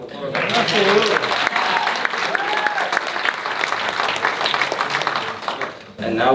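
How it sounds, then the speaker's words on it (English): Audience at a youth entrepreneurship competition giving sustained applause, dense steady clapping that holds for several seconds before tapering off, with a voice speaking briefly at the start and end. "can we just give him another round of applause?"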